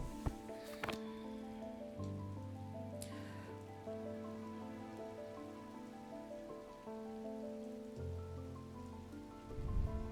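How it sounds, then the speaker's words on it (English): Steady, faint rain patters continuously on a surface for the whole stretch, blended with a soft background of sustained musical tones, and no one speaks. "It is currently raining."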